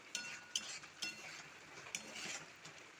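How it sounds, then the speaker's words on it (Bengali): A spatula stirs masala spices in a pan for chicken kosha, giving faint, intermittent scrapes and light metallic clinks, close by and quiet, with no talking. "মশলাটাকে সুন্দর করে কষতে হবে।"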